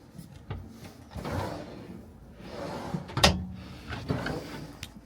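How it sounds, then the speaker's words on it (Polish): Drawers in a Hymer B5 camper van slide open and shut several times, giving soft rolling rubs and a sharper knock near the middle, close by in a quiet interior. "Szuflady."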